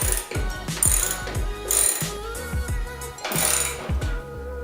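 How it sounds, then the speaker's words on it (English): A hand ratchet clicks in quick bursts while backing out 12mm bolts from the front fender of a Nissan 350Z, with metallic ratcheting and tool clatter close up over steady background music. "I'm going to take off these two 12mm bolts."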